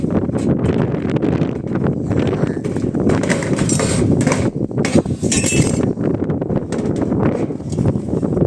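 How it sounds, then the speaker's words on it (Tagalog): Strong wind buffets the microphone in a steady, loud roar, with faint clinks and scattered rustles in the background. "Taas ng hangin dito."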